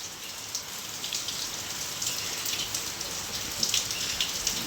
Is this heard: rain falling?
yes